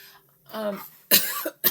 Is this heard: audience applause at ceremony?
no